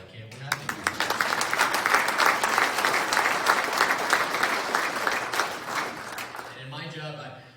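Sustained applause from an audience at an agricultural breakfast in Mason City, Iowa, dense clapping swelling quickly and holding for several seconds before tapering, with a voice briefly heard at either end.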